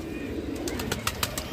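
A captured Nilam green pigeon flaps its wings in several quick bursts close by, each beat a short rustling flutter, over a low background murmur.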